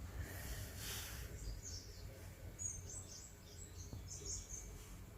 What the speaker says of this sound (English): Chilling on my fishing bed listening to the birds